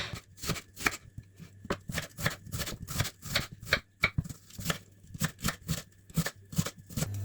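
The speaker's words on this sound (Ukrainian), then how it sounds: "Для початку ріжемо цибульку м'яким кубиком." A knife dices an onion into small cubes on a cutting board, a rapid series of crisp, close chopping taps in irregular bursts with short pauses between them.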